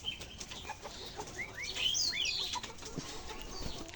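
Layer pullet chickens on a farm in Nilphamari, Rangpur, chirp and cheep from a busy flock, with short upward calls and some wing flapping against a constant background rustle.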